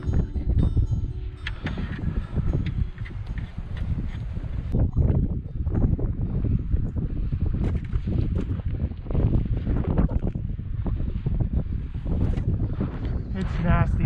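Strong cold wind gusts across a frozen lake during ice fishing, a constant loud buffeting rush that batters the microphone throughout.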